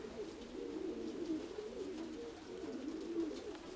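A pigeon coos in a steady, repeated low warble, fairly close and continuous, with outdoor air noise and no talking.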